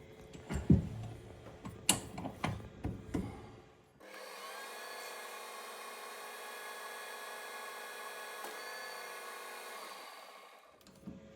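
A 7/32 drill bit bores straight through a small metal muffler part for a six-cycle engine, a steady, fairly loud whine holding for about six seconds after some handling clatter, then stopping.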